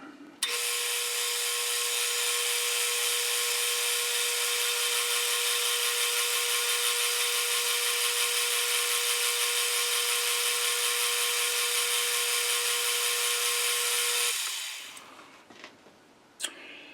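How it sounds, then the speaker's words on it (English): A bandsaw cuts lathe spindle stock as one loud, steady, bright whine that holds for about fourteen seconds, then winds down, with a few faint knocks at the end and no talking. "Yeah, bandsaw time."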